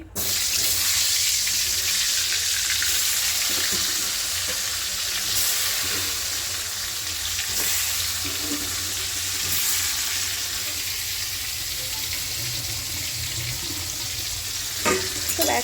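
Potatoes hit hot oil in a pan while mutton curry is being cooked, giving a loud, continuous hiss and sizzle close up, with faint stirring scrapes and no voices.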